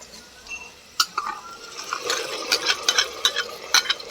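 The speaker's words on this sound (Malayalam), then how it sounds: "സവാള ചേർത്ത് നന്നായിട്ടൊന്ന് വഴറ്റി കൊടുക്കാം." Onions sauté in a pan for sambar. A soft sizzle runs under repeated light scrapes and clinks of a spoon stirring against the metal, and these grow busier toward the end.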